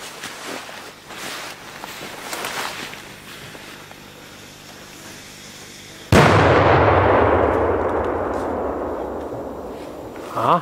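A Polish Super Bra 20 firecracker goes off outdoors with one loud, sharp blast after several seconds of quieter background noise, followed by a long decaying rumble and a faint late pop.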